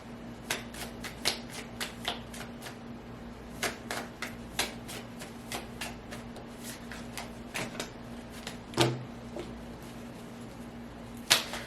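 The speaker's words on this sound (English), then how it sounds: "Let's pull some oracle cards here." Oracle cards are shuffled and handled up close, making a scattered series of soft flicks and snaps with a few louder slaps over a quiet, low hum.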